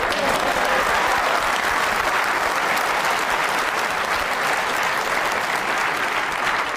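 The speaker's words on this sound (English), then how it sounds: "there'll be a big round of applause if this drops in" A snooker audience breaks into sustained, dense applause that stays loud and even throughout, a broad wash of many hands clapping with no voices standing out.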